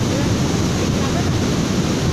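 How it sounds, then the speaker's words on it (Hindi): Waves rolling onto the Bay of Bengal shore where the Indravati river water meets the sea: a loud, continuous surf roar with wind buffeting the microphone, no clear breaks between swells. "देखिए किस प्रकार है पानी का लहर"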